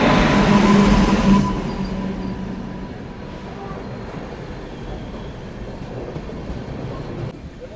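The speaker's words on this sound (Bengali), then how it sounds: "বন্ধুরা, ঢুকছে আমাদের ট্রেন জম্মু তাওয়া থেকে কলকাতা," Jammu Tawi–Kolkata Express pulling into a station: a loud, close rumble for the first second and a half, then a steadier, quieter rolling drone of the train's cars that continues to the end.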